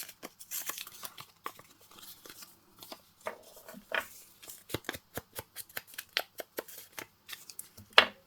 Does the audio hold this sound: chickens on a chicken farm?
no